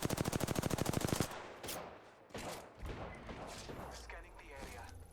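Gunfire in the Apex Legends video game: a rapid burst of automatic shots up front, then scattered single shots and impacts under game noise and a talking voice.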